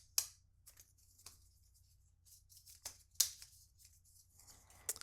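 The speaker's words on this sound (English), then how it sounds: "before we talk about them, we do need to take off the plastic" Plastic film being peeled off a new Apple AirPods 2 (2019) charging case, a series of faint, sharp crinkles and tearing crackles scattered over a few seconds in otherwise quiet surroundings.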